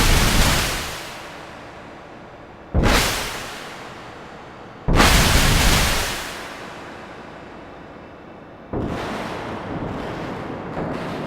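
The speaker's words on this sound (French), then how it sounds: "Utilisons le module de bruit du Subtractor comme son et apprécions l'étrange réverbération brutale et assez angoissante" Harsh noise bursts from a Reason Subtractor synthesizer's noise module, each hitting suddenly and decaying into a long, rough reverberant wash; four loud blasts with no voices.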